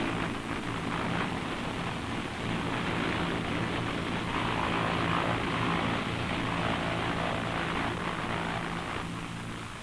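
A propeller-driven airplane drones steadily overhead, a loud continuous engine and airscrew roar that holds throughout without pause, in 1960s British air traffic footage.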